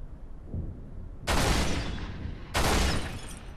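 Two loud, sharp gunshots ring out in a video game about a second apart, each trailing off in a long, bright echo, preceded by a fainter thump.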